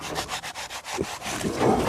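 Rhythmic crisp slicing strokes of a knife chopping young grass, about seven quick cuts, close up with no talking.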